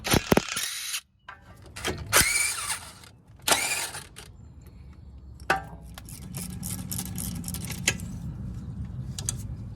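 Ratchet wrench loosening 12mm brake line bracket bolts on a Hyundai Sonata strut, in quick bursts of clicking separated by short pauses, followed by softer mechanical rattling, close and fairly quiet.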